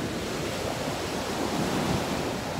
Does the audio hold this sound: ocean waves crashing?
yes